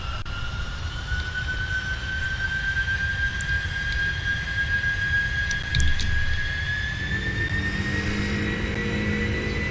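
Boeing 747 jet engines at takeoff thrust on a heavy, short-runway departure: a loud, continuous broadband roar with a steady, slowly rising whine, heard from the cockpit with no talk.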